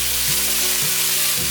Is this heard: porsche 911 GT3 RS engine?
no